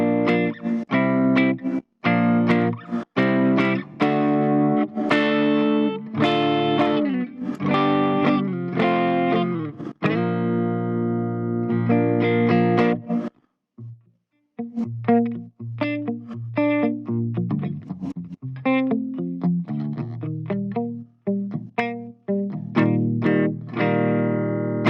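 An electric guitar plays clean chords and single notes through a Bugera G20 Infinium amp with no reverb, dry and close, with brief pauses between phrases.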